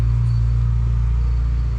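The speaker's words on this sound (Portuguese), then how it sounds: "Tá passando um carro aqui." A car passing on a road near an old church in Papucaia, Cachoeiras de Macacu, Rio de Janeiro: a steady, loud, close engine rumble with a low hum that holds throughout and fades slightly at the end.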